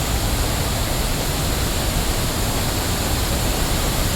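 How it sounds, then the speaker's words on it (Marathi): Thoseghar waterfall pours down in a loud, constant, broadband roar of heavy falling water, steady and close with no break or voices. "एवढा खतरनाक धबधबा आहे"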